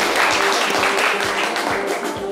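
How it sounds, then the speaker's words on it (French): Loud, dense applause from a live studio audience during a French talk show, steady clapping with a few sharper claps standing out throughout, no talk over it. "on peut l'applaudir très très fort"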